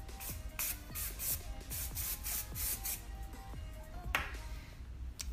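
Hairspray misted onto curled hair in a run of short, close hissing bursts, one after another, with soft rustling of hair between the puffs.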